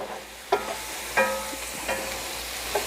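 Mushrooms are stirred in a frying pan in a home kitchen, giving four or five separate scraping strokes a second or so apart over a soft, steady sizzle, close and fairly quiet.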